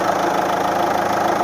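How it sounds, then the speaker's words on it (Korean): A used, accident-free SUV's engine idles close by with a loud, steady, even rumble that holds without change and has no talk over it. "엔진 소리 한번 들려드릴게요"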